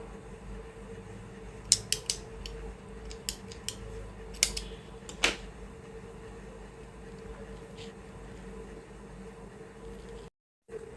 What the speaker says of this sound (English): Now give a knot and cut the extra yarn.